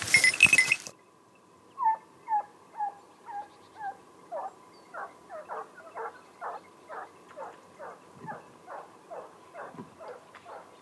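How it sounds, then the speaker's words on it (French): Corsican boar-hunting dogs yelping and barking repeatedly in an outdoor setting, a steady series of sharp, evenly spaced calls at middle distance after a brief loud burst at the start. "Donc là, je lâche 3 chiens."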